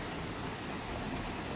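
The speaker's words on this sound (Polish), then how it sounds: "Jeszcze się woda zbiera w tym parasolu." Rain falls on an umbrella during a work break in Hel, Poland, making a constant close patter and hiss of drops with no let-up and no talking.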